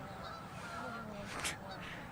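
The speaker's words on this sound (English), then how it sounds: "the geese go crazy here at Liberty" Geese honking as they fly over a girls' field hockey game at Liberty, their calls faint and distant, a few scattered honks above a steady outdoor background of crowd and field noise.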